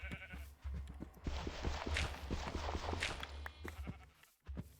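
Sheep in the Minecraft video game bleat in a run of short, fairly faint calls, with blocky footsteps and low background game sounds.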